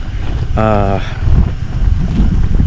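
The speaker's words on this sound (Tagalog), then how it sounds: "Grabe, malakas yung hangin." Strong, steady wind roaring against the microphone on a hillside campsite, with a brief humming tone near the start and constant gusty rumble throughout.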